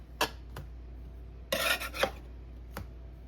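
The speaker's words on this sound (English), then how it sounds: "So we're gonna give them a good flip" A metal spatula clinks and scrapes against a pan while banana walnut pancakes are flipped: a few sharp taps, then a short burst of scraping and one last light clink, close and fairly quiet with no voices.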